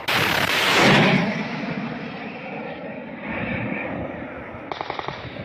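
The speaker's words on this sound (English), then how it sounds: "here is footage of one of them being hit down by manpads." In combat footage from the Kherson region, a helicopter is hit by a MANPADS, heard as a loud whooshing blast that gives way to a droning rotor and engine roar, with a quick burst of rapid sharp pops near the end.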